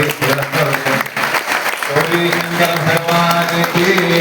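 An audience claps in applause at a Sankashti devotional felicitation gathering, a steady wash of hand claps heard under a voice that keeps speaking.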